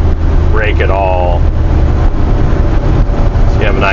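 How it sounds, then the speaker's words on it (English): Engine braking on a 2022 Peterbilt 567 truck with a 605 hp Cummins X15, a steady loud low drone heard from the cab, with brief voice-like sounds in the background. "So engine brake right there, I'm gonna actually hold that down."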